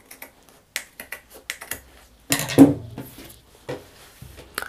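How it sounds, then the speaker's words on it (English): Scissors snip through folded fabric in a series of short, crisp cuts, close and sparse, with one louder rustling crunch of cloth midway. "So I will fold it like this, and then I will just cut it a little bit."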